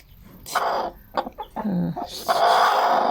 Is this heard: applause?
no